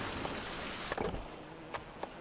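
Steady rain in the survival video game Survival: Fountain of Youth hisses evenly throughout, with a few sharper drop impacts and a brief surge of noise near the middle.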